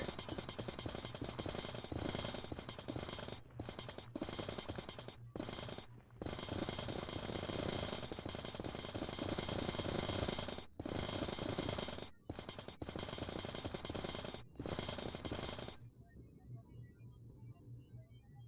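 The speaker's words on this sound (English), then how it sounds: "this drill, a little excessive for around netherrack" Drill mining netherrack on a Minecraft server, a dense, loud mechanical grinding that runs in long bursts with short breaks over most of the clip, then cuts off near the end.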